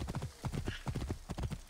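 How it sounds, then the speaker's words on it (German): Horse hooves galloping in Assassin's Creed Origins, a fast rhythmic clip-clop of repeated triple beats on hard ground, moderately quiet and steady. "Das Pferd soll einfach schneller reiten."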